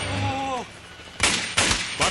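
Gunfire in a film, two or three sharp, loud bursts coming in quick succession after a brief spoken line.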